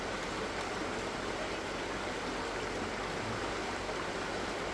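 A river flowing in a rural Bicol province setting, where people do laundry: a steady, broadband rushing and trickling of water that holds constant throughout, close and even, with no talk over it.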